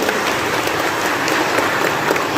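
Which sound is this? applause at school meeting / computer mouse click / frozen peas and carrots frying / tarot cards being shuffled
applause at school meeting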